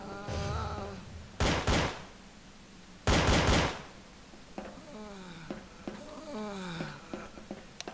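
Two loud gunshot bursts ring out in Garry's Mod during a police station raid roleplay, each a broad crackling blast lasting about half a second, separated by a pause, with voices and chatter around them.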